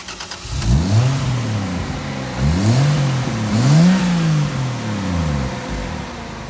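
A 1991 Nissan 300ZX engine revs up repeatedly in several rising and falling surges, loud and close, with a rumbling exhaust between the pulls.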